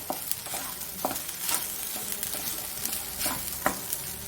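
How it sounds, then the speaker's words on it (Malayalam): Nuts fry in oil in a pan for tomato rice, giving a soft continuous sizzle broken by several scraping stirs of a spoon. "അതുപോലെ നട്ട്സുകളൊക്കെ നന്നായിട്ട് മൂപ്പിച്ചിടാം"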